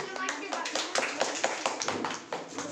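A small group of students clapping at a study-program prize giving, a quick burst of irregular hand claps, fairly close, with speech mixed in.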